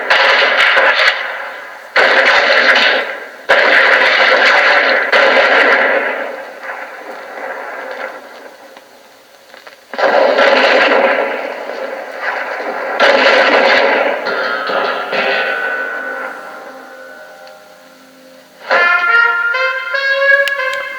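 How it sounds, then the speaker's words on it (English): Police gunfire from the animated film Coonskin erupts in long, dense, loud bursts of rapid shooting separated by short pauses, ending in a bright tonal sound. "and the police start shooting him."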